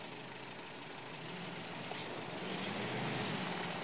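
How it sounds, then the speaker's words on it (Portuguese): A truck engine idles steadily in the off-road driving game MudRunner, a low continuous rumble that slowly grows a little louder across the few seconds, with no talk. "tá ligando o motor lá"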